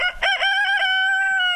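A rooster crows from a pastured laying flock, one long loud cock-a-doodle-doo that rises in short opening bursts and then holds a strained, steady note, close and clear with no talking.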